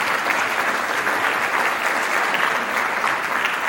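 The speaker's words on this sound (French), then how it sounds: "On peut l'applaudir." An audience at a town's New Year greetings ceremony claps warmly, giving an even, continuous patter of hands from start to finish with no voices on top.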